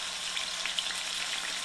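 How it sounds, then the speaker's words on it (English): Lemon pepper and Italian dressing marinated chicken sizzles on a grill, a steady dense crackling hiss with scattered pops, close and continuous, with no voices. "You hear that beautiful sound of that sizzle?"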